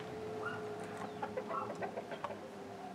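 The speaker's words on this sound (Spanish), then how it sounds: "no son las gallinas que están aquí al lado, o el gallo" Chickens cluck and a rooster calls nearby, several short irregular bursts over a low steady background hum.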